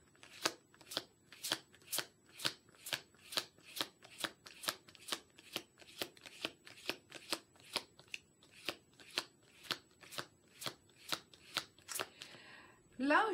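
Tarot cards are shuffled in sharp, regular riffling bursts, about twenty close, crisp snaps in a steady rhythm, ending with a brief rustle.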